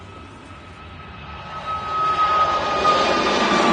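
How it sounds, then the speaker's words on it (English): A Ryanair Boeing 737 MAX 8 jet taking off at Manchester Airport, engine roar building steadily from a distant rumble with a whining tone to a loud, broad blast. "So there's a Ryanair to Dublin. It's a 737 MAX 8."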